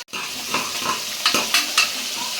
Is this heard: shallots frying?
yes